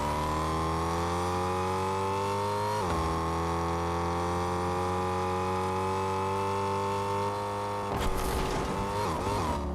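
Car engines in a video game drone steadily at high revs, pitch shifting slightly as gears change, with a sudden burst of noise near the end.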